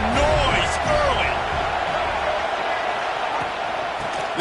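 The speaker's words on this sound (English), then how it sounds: "This crowd bringing the energy and noise early." Football stadium crowd at a college game between NC State and Notre Dame, a steady broad roar of many voices filling the stands, with a commentator talking over it early on.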